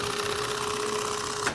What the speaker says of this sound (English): I'll sew those together real quick and put the French seam on it